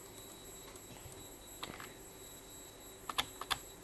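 Computer keyboard spacebar pressed hard during a game of Beyond: Two Souls, heard as a few sharp, sparse key clacks, the loudest clustered near the end, fairly close over a quiet background.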